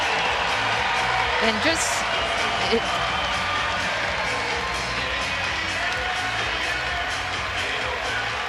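Home crowd at an Oklahoma Sooners women's basketball NCAA second-round game against Iowa gives a sustained, dense ovation with cheering, steady throughout, while a commentator talks over it.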